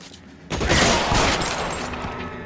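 Gunfire from a shootout in the video game L.A. Noire: Complete Edition on PC, a sudden loud burst of overlapping shots that keeps rumbling for about two seconds with no talk.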